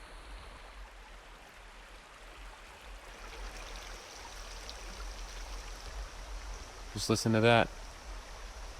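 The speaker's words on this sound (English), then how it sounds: "Right on the river." River flowing right beside a campsite on Tripoli Road, a steady broadband rush of water close by, with a brief voice near the end.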